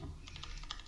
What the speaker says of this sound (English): No, I was typing in to Fred